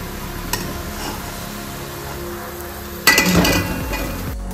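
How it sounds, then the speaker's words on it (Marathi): Fried balushahi dropped into warm sugar syrup after the last batch of frying, giving a sudden burst of wet clinks and sizzling splashes that fades after a second or so over a steady low kitchen hiss. "मस्त आता आपण पाकात टाकून घेऊ आणि गॅस बंद करू"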